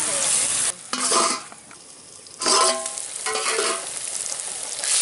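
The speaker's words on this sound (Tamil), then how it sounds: "இப்போ எலுமிச்சங்காயை இதில் சேர்த்து நல்லா வதக்கிடலாம்" Lemon pickle with chilli powder is sautéed in a pan, with bursts of hissing sizzle as the mix is stirred. Loud scraping, sizzling spells alternate with quieter simmering gaps.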